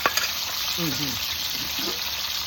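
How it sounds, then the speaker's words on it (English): Pieces of bluefish frying in a pan for a Jamaican fish rundown, a steady close sizzle and crackle with a voice speaking briefly over it. "This one is still frying up."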